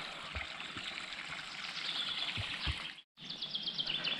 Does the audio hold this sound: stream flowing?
yes